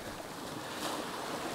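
Ocean waves washing against the rocky shore below Minard Castle on the Dingle Peninsula, a steady broad surf wash with wind noise, fairly loud and continuous with a slight swell near the end.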